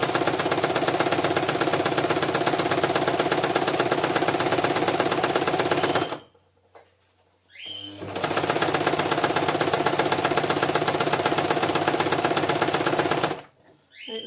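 A sewing machine stitches around a simple skirt with a loud, steady mechanical whir up close. It stops briefly halfway through, then runs again for several seconds before halting near the end.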